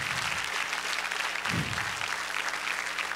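Congregation applauding at a Sunday morning church worship service, a dense, steady wash of many hands clapping throughout, with a brief low thump near the middle.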